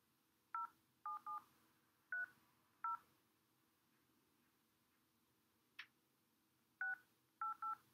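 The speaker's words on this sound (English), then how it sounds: "So I'm going to phone this guy now." Telephone keypad tones as a number is dialled, eight short beeps in quick irregular clusters, with a brief click between the groups, faint and alone in a quiet room.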